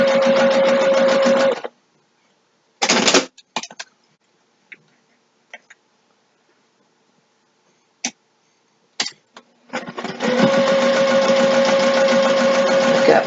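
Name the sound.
sewing machine stitching a zipper bag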